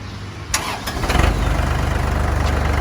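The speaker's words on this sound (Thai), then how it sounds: "สตาร์ทเราลองขับดูครับ" An Iseki 540 farm tractor engine cranks and catches, then settles into a steady, loud, rhythmic diesel idle close by.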